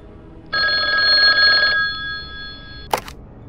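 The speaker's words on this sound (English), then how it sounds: "The phone never rings, but now this" A telephone bell rings once in a long, bright, steady trill that then stops, followed by a quieter hum and a sharp click near the end, alone with no voices.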